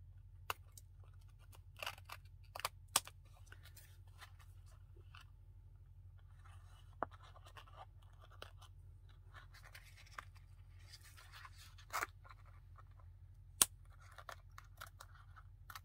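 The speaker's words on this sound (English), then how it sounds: "I'm going to snip this off." Scissors snip paper for a junk journal, several quiet isolated cuts at irregular intervals against near silence, with faint paper handling between snips.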